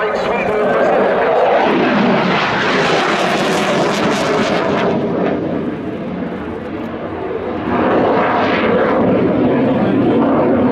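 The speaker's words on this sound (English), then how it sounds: "Gripen E, the latest manifestation of the Gripen design, which is quite powerful" Saab Gripen E fighter jet flying a display at the Royal International Air Tattoo, a loud, continuous jet roar that surges and sweeps as the aircraft passes, with a commentator's voice over it throughout.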